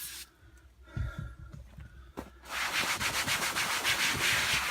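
Rag's scratchy side scrubbing boat vinyl, starting with scattered soft rubs and breaths, then turning into a continuous, loud, close rasping scrub for the last two seconds.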